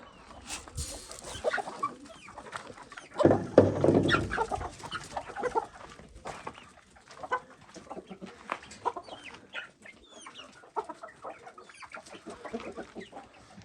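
Hens cluck and murmur in a busy barnyard coop while eating feed, with one loud burst of squawking near the start, then steady scattered clucks close by.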